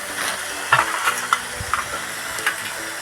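Vegetables and Malabar spinach stems are stirred in hot oil in a pan, a steady sizzle broken by several close scrapes and taps of the spoon.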